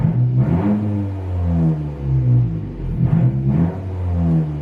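A Honda car engine fires up and revs, a close, steady low hum that rises and falls in two swells, with no talking over it.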